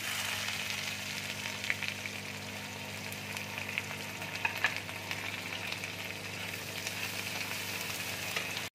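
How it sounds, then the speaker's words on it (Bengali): Curry leaves and chopped onion frying in hot oil, giving a steady close sizzle and crackle throughout with a few brief pops, and no talking. "এবার আমি কারি পাতা ফোড়ন দিয়ে দিচ্ছি। আমি পেঁয়াজ কুচি দিয়ে দিচ্ছি।"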